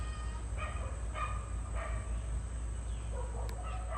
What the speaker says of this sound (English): Now she's wondering who that dog is that's barking over there.